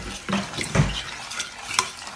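Lemon juice, water, sugar and vanilla being stirred together in a saucepan, a few short scraping and clinking strokes of a utensil against the pot, close and fairly loud with quiet gaps between them.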